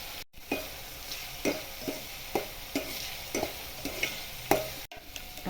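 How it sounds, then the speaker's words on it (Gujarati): Garlic sautés in a pan with a steady low sizzle. A spatula scrapes and stirs through it about once every half second, close and fairly quiet. "સાંતળતા જઈશું. લસણને વધારે ગરમ કરવાનું નથી, થોડું ગરમ થવા દઈશું."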